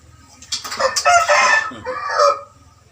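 A fighting rooster crows once, a loud hoarse call rising and falling over a couple of seconds, close by with faint background noise.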